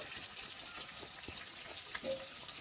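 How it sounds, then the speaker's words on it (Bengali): Ground cumin, turmeric and chili powder with ginger paste frying in a pan for a radish dish, a soft steady sizzle with light crackles and a brief stirring scrape, heard close without talk. "মশলাটা একটু ভেজে নেব"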